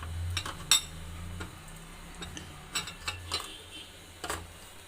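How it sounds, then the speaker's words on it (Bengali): Small fish dropped into a metal cooking pot for an alu-tomato fish curry, giving a string of light clinks and taps, one sharper knock early on, then scattered soft clatters against a low steady hum. "প্রথমে হয়েছে আমি ছোট মাছগুলি পাতিলে নিয়ে নিচ্ছি।"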